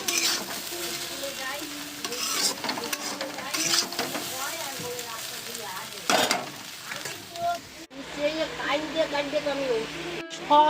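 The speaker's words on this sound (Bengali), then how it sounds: "আমার আলু ভাজা ওদিকে প্রায় হয়ে এসছে এখন দুটো ডিম ভাজবো" Potatoes and eggs frying in a pan give a steady, loud sizzle with scraping and stirring clatter throughout, while people talk over it and other noise cuts in near the end.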